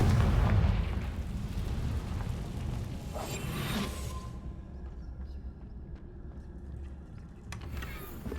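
A fiery spell explosion in Hogwarts Legacy opens with a heavy, deep boom that rolls into a rumbling burst and fades over several seconds into quieter background game ambience.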